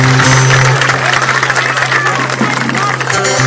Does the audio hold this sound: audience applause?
yes